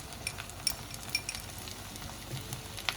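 Chopped onion going into browned garlic in a hot pan for veg Manchurian gravy, with a steady close sizzle and a few light metallic clinks from a stirring utensil.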